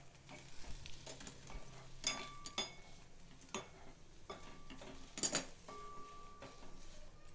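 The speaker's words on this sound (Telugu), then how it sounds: "ఇదంతా చక్కగా కలుపుకోవాలి." A spoon stirs turmeric, chili powder and salt in a pan, giving quiet scrapes and scattered metallic clinks at an irregular pace, close by and with no talking.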